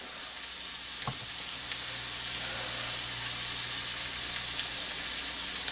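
Hamburger patties browning in a hot skillet give a continuous, even sizzle, close but fairly soft, with one sharp clink near the start and no voices.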